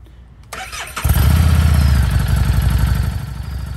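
A Harley-Davidson Street 500 with its stock exhaust cranks and fires up, then settles into a loud, steady, close idle with a throbbing low rumble.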